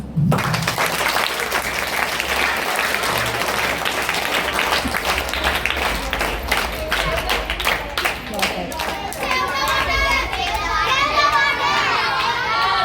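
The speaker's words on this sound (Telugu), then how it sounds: "Big clap." Sustained clapping and applause from a crowd of children at a school Children's Day celebration, steady and busy throughout, with excited kids' voices and chatter mixed in.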